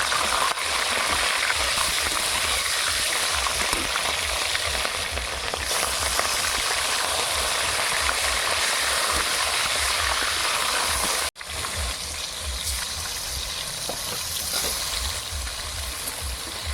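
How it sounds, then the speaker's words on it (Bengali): Pieces of katla fish fry in oil in a wok, giving a dense, continuous sizzle that stays loud and steady throughout, with a brief break near the end before the crackling resumes. "মাছটাকে এখন ভেজে নেব। মাছ ভাজার জন্য কড়াতে তেল দিয়ে দেবো।"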